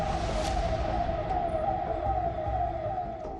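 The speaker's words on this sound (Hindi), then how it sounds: "सन्नाटे को चीरती हुई पुलिस की गाड़ी के सायरन की आवाज आ रही है।" A police car siren sounds on an empty locked-down street in Amravati, a fairly faint, steady wailing tone that slowly drops in pitch over a few seconds.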